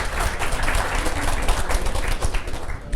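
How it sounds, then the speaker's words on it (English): A seminar audience on moving timelines and clearing karma claps together in a dense, even round of applause that carries from start to finish without pause. "Just give everybody a round of applause, people sitting next to you, for being here."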